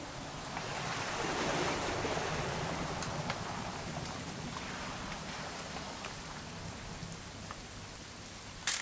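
Steady rain patters down across the whole stretch in the video game What Remains of Edith Finch, a dense hiss with scattered drops, no voices, ending in a brief louder knock.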